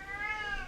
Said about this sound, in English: it's my cat that is disturbing a little bit